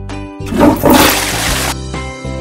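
A cartoon toilet flushes in a kids' cat princess game, a loud whooshing rush of water lasting over a second over a steady electronic music bed.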